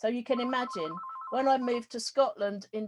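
A mobile phone rings briefly, a steady electronic ringtone trill sounding under and between a woman's continuous speech, near and moderately loud.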